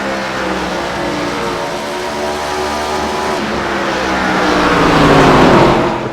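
Race car engines roar steadily at Iowa Speedway in an iRacing ARCA Menards Series race, a loud continuous drone that swells and rises in pitch near the end as cars run down the back straightaway.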